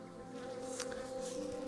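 Honey bees from a removed hive buzz steadily and close by, a continuous droning hum around a bucket of dry wax, with no talking.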